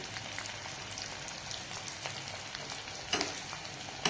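Food fries in leftover oil from cooking pakoras, a dense, steady sizzle and crackle like rain, with a couple of louder spatters or stirring knocks near the end and no talking.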